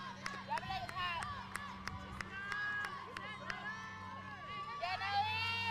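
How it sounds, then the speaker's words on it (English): Mishicot softball players chant and cheer from the dugout during a girls' game against West De Pere, a lively mix of voices with rhythmic claps, steady crowd hubbub throughout. "Live look in the Mishicot dugout here as they cheer on Cora Nelson when she bats with 1 out"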